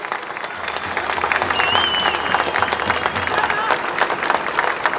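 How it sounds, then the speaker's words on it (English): A rally crowd against the Emergency Services Levy Bill applauds the Victoria Police with sustained, dense clapping from many people, holding steady at full strength, with a few faint whistles and some murmuring mixed in. "a big round of applause to them"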